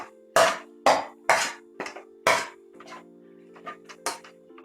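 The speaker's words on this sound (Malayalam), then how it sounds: "ഇനി ഒന്ന് ഇളക്കി കൊടുക്കാം നല്ലപോലെ" A metal spoon stirs bread samosa filling seasoned with ajwain and black pepper in a pan, giving several sharp, ringing clangs against the vessel in an uneven rhythm, close and fairly loud.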